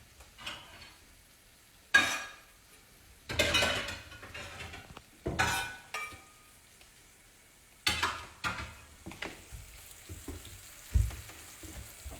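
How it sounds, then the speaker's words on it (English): Soft sizzling of Italian-style sausage in a frying pan with intermittent scraping and clinking of a utensil against metal, fairly quiet and close. "fry up some Italian style sausage"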